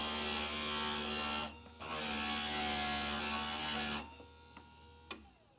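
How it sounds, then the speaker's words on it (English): Stained glass grinder smoothing the edge of a cut glass piece for a four-leaf clover: a loud, steady whirring grind with a brief pause, then the motor cuts off, leaving a few light taps. "Touch that up on the grinder right here."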